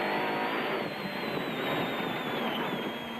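A Nissan hardbody rally truck is heard onboard during the Caledon 400 rally, its engine droning at a steady high pitch and rising and falling slightly, loud and continuous from inside the cab with no talk.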